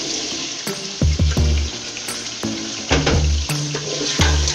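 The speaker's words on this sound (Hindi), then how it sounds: "चनों को मसाले के साथ अच्छे से भून लेंगे" Chickpeas fry with masala in a pan, giving a steady sizzle broken by irregular clanks and scrapes of a utensil stirring against the metal, close and fairly loud.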